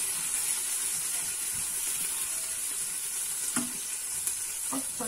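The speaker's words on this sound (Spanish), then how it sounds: "Lo primero será cebolla y el ajo que lo acabo de cortar pequeñito. Esto lo sofreiré bien." Onion and garlic fry steadily in a pan, giving an even broadband sizzle throughout with a couple of brief scraping knocks near the end and no speech.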